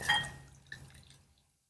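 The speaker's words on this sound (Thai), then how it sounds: "ผมก็จะนำมากรองกับผ้ากับบาง แบบนี้" Homemade pest-repellent spray strained through thin cloth drips into a container, a brief cluster of liquid drips and splashes that fades to quiet, with no voices over it.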